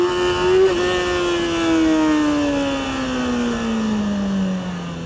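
A motorcycle pulling away in first gear for a wheelie, its engine tone rising briefly, then holding and slowly falling across a few seconds, heard clearly without talk.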